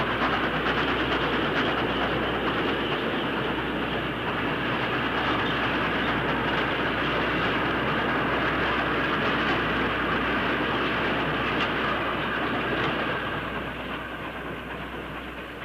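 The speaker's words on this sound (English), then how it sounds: "92160 runs back to the docks, passing a local DMU working to Wrexham or Chester Northgate" A British Railways 9F steam locomotive hauls an iron ore train on the Borderlands Line near Shotton steelworks, making a loud, continuous rolling rumble with faint wheel clatter that eases slightly near the end, with no voices.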